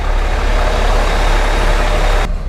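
The 375-horsepower engine of a Higer bus idles with a loud, steady low rumble, heard close up and unchanging before a slight drop at the very end.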